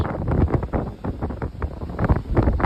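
Strong wind buffeting a microphone offshore near a cruise ship, a loud continuous low rumble with gusty swells and no speech.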